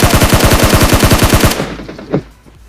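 Rapid automatic gunfire in a shooter video game, a loud close burst of evenly spaced shots for about a second and a half, then stopping, followed by one more sharp single report and fading echo.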